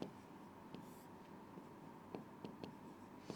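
Marker or pen strokes while a physics equation is written out for an engineering admission lesson, a faint, irregular series of short scratches and taps close by against a quiet background hiss.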